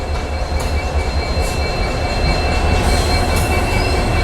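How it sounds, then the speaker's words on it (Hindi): A passenger train hauled by a WDP 4D diesel locomotive rolls into a station platform in India, with loud steady rumbling, faint wheel squeal and scattered metallic clicks from the wagons. "सामने से देखिए ट्रेन आ रही है"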